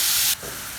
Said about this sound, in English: we're going to just put that in the pan and we're going to let that cook down